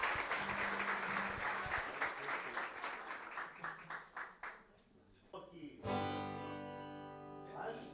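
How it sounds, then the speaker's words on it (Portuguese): Church congregation applauding the Lord in loud, dense clapping for several seconds, fading briefly before music and voices swell in. "Você pode dar um aplauso ao Senhor bem forte?"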